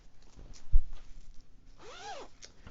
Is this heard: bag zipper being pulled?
yes